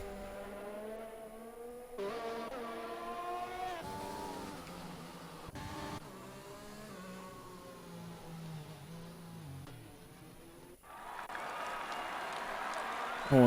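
Formula 1 cars in a racing video game pull out of the Singapore pit lane, a Ferrari among them, with a steady engine whine and gliding pitch under continuous talking.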